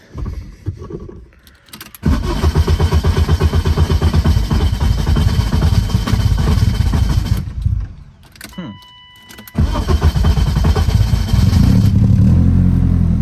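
A BMW E36 cranks over after an ECU connector pin fix, then fires and settles into a steady idle with a rough, close engine note; a brief pause splits the running.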